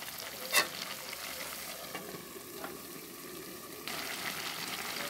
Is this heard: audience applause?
no